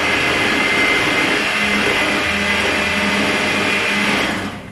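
Electric mixer beating strawberry shortcake batter, a loud, steady, high whirring drone held close for several seconds before cutting off at the end, with no voices.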